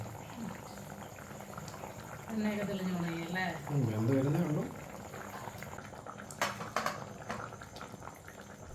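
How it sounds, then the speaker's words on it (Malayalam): Fish curry with kudampuli tamarind bubbling in a pot, a soft continuous boil heard close, with a person talking over it for a few seconds. "നമ്മുടെ കറി തിളച്ച് വരുമ്പോഴത്തേക്ക് നമ്മൾ മീൻ അതിനകത്ത് ഇട്ട് കൊടുക്കണം"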